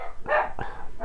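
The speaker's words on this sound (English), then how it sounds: "You have to excuse the dogs, they bark at people walking by." A dog barks a few quick, close times at people walking past outside, with short sharp yelps in about a second and nobody speaking.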